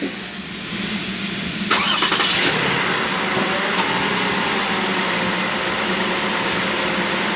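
2016 Toyota Highlander engine cranking and catching in a garage during a fluid change, then settling into a steady mid-pitched idle that runs loud and even for several seconds.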